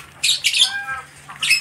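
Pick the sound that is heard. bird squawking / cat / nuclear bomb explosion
bird squawking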